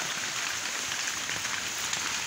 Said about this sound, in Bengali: কিভাবে বৃষ্টি পড়তেছে চাল থেকে।